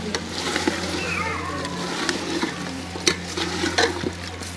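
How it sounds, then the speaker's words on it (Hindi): Mutton frying in ghee is stirred, with a soft sizzle and scraping utensil strokes, close and fairly quiet, while a low hum runs beneath and faint voices may be present. "इसको अच्छी तरह से मिक्स करेंगे।"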